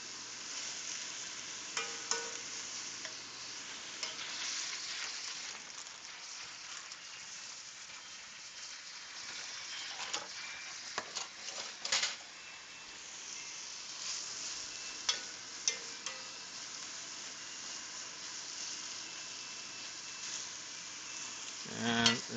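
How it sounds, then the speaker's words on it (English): A glaze simmers and sizzles steadily in a pan while a utensil stirs it, with occasional scraping taps and clicks against the pan over a continuous bubbling hiss. "I'm still stirring our glaze."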